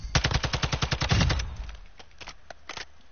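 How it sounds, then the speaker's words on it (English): Rapid automatic gunfire from the game Call of Duty Warzone, a loud fast burst of about a dozen shots followed by a few scattered single shots, heard alone without talk. "I can get a far shot with that man. Just like that. That's how I shoot ya."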